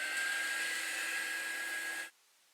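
A heat tool blows a steady, whooshing hiss while quick-drying shimmery craft paint on a pie-shaped tiered-tray piece, running near and fairly loud for two seconds before cutting off abruptly into quiet.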